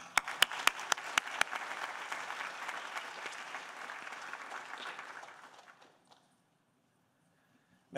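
An audience at a scientific symposium gives a brief round of applause to welcome a speaker. It opens with a few sharp claps, swells into steady clapping and fades out after about six seconds.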